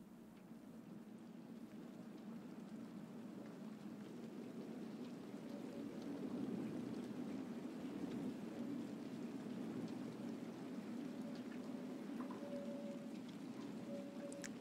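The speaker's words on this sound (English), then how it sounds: "Rain falling." Steady rain pours in the video game Tell Me Why, a dense, even hiss that holds for the whole stretch with faint rumbling beneath and no voices.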